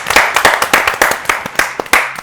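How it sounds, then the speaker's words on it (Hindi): Audience at a Pakistani drama award show claps loudly and steadily for a best writer critics winner, a dense close burst of many hands with no voices over it. "जबरदस्त तालियां"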